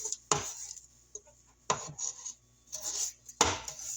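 A utensil scrapes around the sides of a metal mixing bowl holding pound cake batter in three or four distinct strokes, each ending with a light clank against the rim, close up with quiet pauses between strokes.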